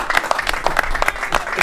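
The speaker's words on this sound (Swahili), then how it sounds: "Tupigeni ama jamaa makofi tafadhali" An audience at a talk on young voters claps in dense, continuous applause that fills the room and stays fairly loud throughout.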